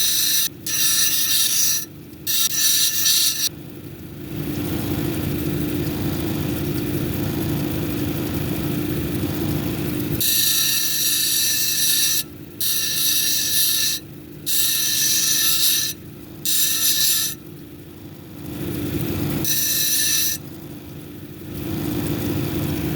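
A jasper cabochon ground on an 80 grit wheel gives loud, steady rasping in long passes broken by short pauses and lifts.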